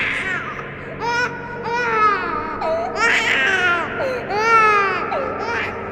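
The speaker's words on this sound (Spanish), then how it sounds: "Lo que siguió fue el llanto de un recién nacido." A newborn baby cries in a series of loud, close wailing bursts with short gasping breaks between them, continuing throughout.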